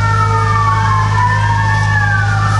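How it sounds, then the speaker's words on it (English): Loud emergency vehicle sirens wail continuously in the background, two overlapping tones sweeping slowly up and down with no gaps, over a steady low rumble. "there are really loud sirens in the background"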